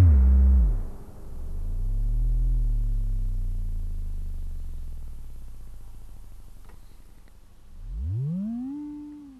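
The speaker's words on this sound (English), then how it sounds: "And sine wave mode." Micromac D synthesizer oscillator set to sine wave mode, a smooth pure low tone sweeping down and up in pitch in slow glides, loud and alone with a brief fresh swell near the end.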